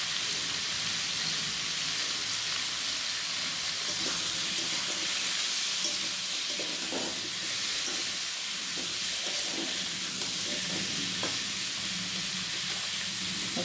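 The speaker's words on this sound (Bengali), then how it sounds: "খুব ভালো করে কষিয়ে নেবো তরকারিটা" Fish-head curry with pumpkin and potatoes being sautéed in a pan, giving a steady, close sizzle and hiss of frying with occasional soft stirring scrapes throughout, no talking.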